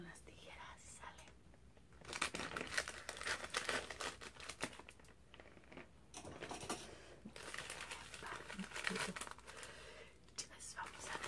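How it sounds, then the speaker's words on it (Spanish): A small package is cut and opened with scissors, giving soft crinkling, tearing and rustling in irregular bursts, close and fairly quiet, with people speaking over it. "Pero mejor lo voy a abrir con las tijeras."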